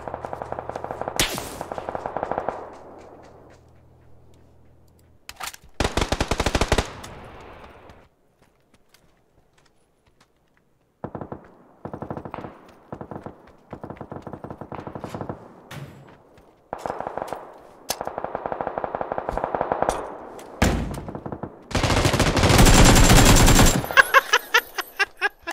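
Gunfire in the battle game PUBG, with bursts of rapid automatic shots and single cracks coming in clusters separated by short quiet gaps, loud and close, with no talking.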